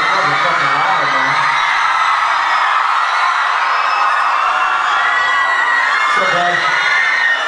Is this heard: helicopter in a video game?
no